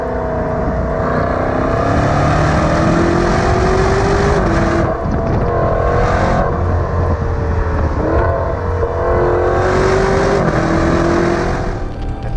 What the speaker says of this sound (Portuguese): Que ronco de motor